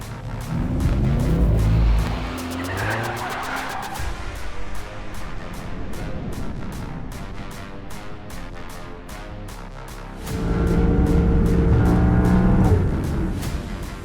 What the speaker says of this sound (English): This week's challenge is drag racing.